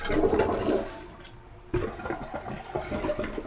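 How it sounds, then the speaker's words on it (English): Household toilet flushing up close: a rushing gush of water that fades, then a second surge as the tank refills with trickling, gurgling water. "I'm going to flush the toilet."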